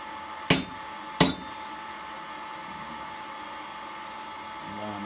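Two sharp hammer blows ring out on hot steel against an anvil at a blacksmith's forge, spaced under a second apart, loud and close, then a steady hum of background noise with no further strikes.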